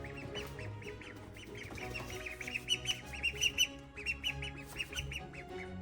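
A flock of ducks quacks and squawks continuously nearby, a busy chorus of rapid, overlapping calls.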